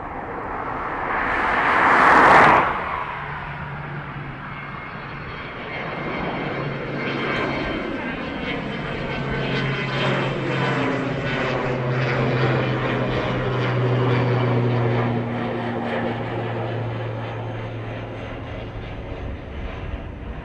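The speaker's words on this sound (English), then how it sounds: "ATR to Manchester." An ATR turboprop airliner at Dublin Airport drones steadily with a propeller hum, rising to a brief loud rush early on, then holding a sustained engine tone at moderate distance, with some faint talk.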